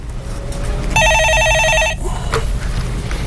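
A telephone rings on a call-in radio show, one loud electronic trilling burst about a second long, followed by a click and faint studio background.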